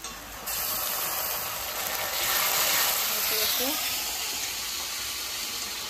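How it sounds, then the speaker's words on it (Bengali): Onion, ginger, garlic, cumin and dried chilli fry in a hot pan with a steady, close hiss and sizzle that swells slightly midway, with faint background sounds. "পেঁয়াজটা দিয়ে দেবো, মশলা আদা রসুন জিরে আর শুকনো লঙ্কা দিয়ে দেবো।"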